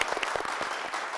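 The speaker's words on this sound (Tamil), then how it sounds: "இவங்க எல்லாருக்கும் ஒரு ஜோரான ஒரு கைத்தட்டல் கொடுங்க" A studio audience on a Tamil television game show applauds, a brief, dense burst of many hands clapping at moderate volume.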